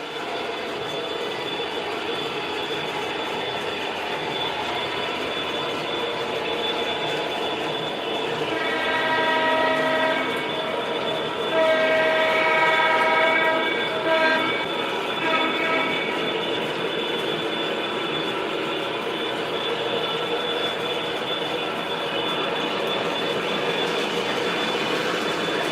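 An MTH model train, an SD40 locomotive, runs steadily on its track with a continuous rumbling hum and a horn sounding intermittently midway, close and fairly loud throughout.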